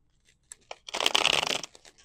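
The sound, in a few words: shuffling tarot cards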